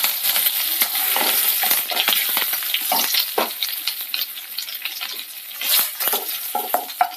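Curry leaves and green and dried chillies sizzle and crackle in hot oil in a pan, a dense continuous frying hiss broken by sharp pops and the scrape of stirring.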